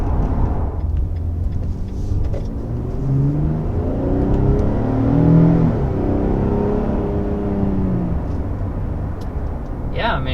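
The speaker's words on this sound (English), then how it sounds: "I also just like the sound of this engine. I mean, it just sounds nice and meaty and powerful." A 2022 Nissan Frontier PRO-X pickup engine pulling steadily while accelerating on a highway, a continuous low rumble with rising harmonic sweeps, heard from inside the cabin alongside road and wind noise, with a voice talking over it.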